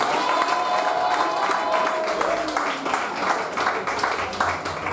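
A church congregation applauds and cheers to acclaim Jesus. The clapping and voices are loud, dense and sustained, with some shouting mixed in.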